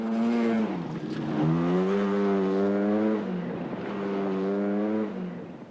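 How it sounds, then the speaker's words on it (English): Chris Lord's Mazda RX-7 Group A rally car on the straights of the 1983 Arnold Clark Scottish Rally, a loud rotary engine revving up in two long rising pulls with a gear change between, close and alone. "Chris Lord's Mazda RX-7 is still second in Group A, despite an unusual driving technique by the Yorkshireman down the straights"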